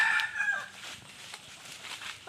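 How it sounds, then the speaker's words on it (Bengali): Chickens and roosters in a mango orchard give faint, brief clucking calls from a short distance, set against quiet outdoor ambience. "মুরগি মোরগ আছে,"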